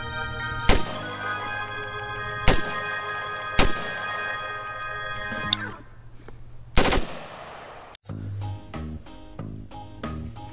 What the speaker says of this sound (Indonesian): ini yang namanya tembakan M14.